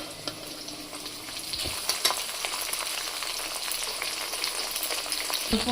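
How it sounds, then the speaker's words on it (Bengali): Peas frying in hot oil alongside chopped onions, a steady dense sizzle with occasional stirring knocks, close and moderately loud throughout. "এবার আমি মটরশুঁটিগুলো দিয়েছি তেলে ভাজি"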